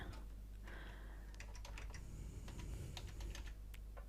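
Typing on a computer keyboard to enter a title, heard as quick, fairly faint key clicks in irregular bursts over a low steady hum.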